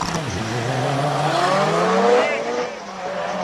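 A Mitsubishi Evo 9 race car climbs a hill at a King of the Mountain speed event in Cape Town, its engine howling loud and close as revs rise and fall through a gear change, with a brief tire squeal.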